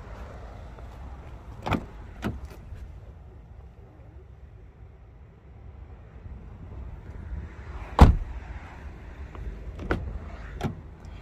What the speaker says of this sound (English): Four electric windows, one touch driver's window